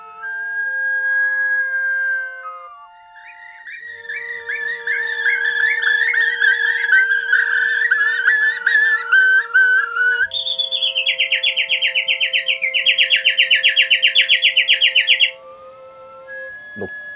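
Two performers whistle and trill imitations of birdsong from many continents, one voice after another in long sustained phrases, then rapid warbling chirps and fluttering high calls, clear and close with no instruments.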